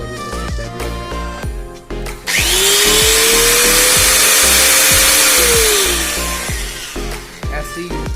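A Bosch GWS 600 angle grinder spins up with a sharp loud whine, holds a steady high-pitched run for several seconds, then winds down, with clicks and handling clatter before and after.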